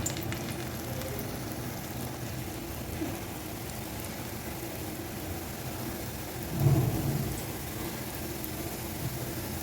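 Wheat flour snacks fry in hot oil with a faint, steady, low hiss that swells briefly into a slightly louder bubbling burst before settling again.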